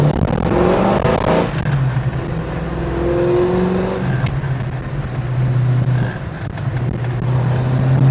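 A 1969 Chevy Nova with a big block Chevy V8 making over 600 horsepower accelerates, its loud engine roar rising in pitch and then settling into a steady drone while the car is driven.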